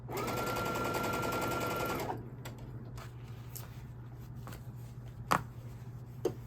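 A sewing machine stitches binding onto a quilt, running steadily for about two seconds with a fast mechanical whir, then stops, leaving quiet handling noises and a couple of light taps.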